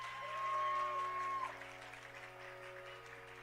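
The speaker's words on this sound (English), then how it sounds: "One more round of applause, please." An audience applauds at a Bharatanatyam arangetram dance debut, the clapping fairly faint and fading out over a few seconds while steady background tones hum beneath.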